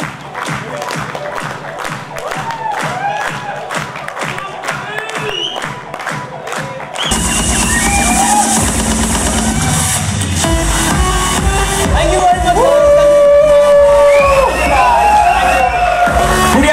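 Claps and shuffling from an event audience come first, then the crowd swells into sustained applause and cheering as a performer arrives, loud and dense, with voices mixed in.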